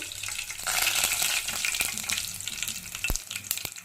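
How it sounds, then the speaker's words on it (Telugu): Mustard seeds, cumin and curry leaves crackle and sizzle in hot oil, a loud, dense hiss with sharp pops and spatter close to the pan. "కొంచెం ఆవాలు, కొంచెం జీలకర్ర వేసిన తర్వాత కరివేపాకు"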